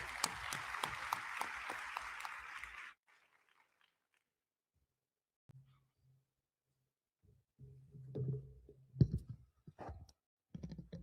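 Applause welcoming a speaker at the opening ceremony of a high-level preparatory meeting, a dense burst of clapping for about three seconds that stops abruptly, followed by near silence, faint shuffling and a few soft knocks.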